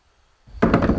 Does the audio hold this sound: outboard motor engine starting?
yes